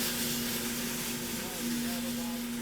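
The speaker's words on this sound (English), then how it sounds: "the noise you hear now is the coffee rotating" Coffee beans tumble inside a hot spinning roaster drum, a steady broadband rushing hiss with a low hum running under it, continuous and fairly loud without pauses.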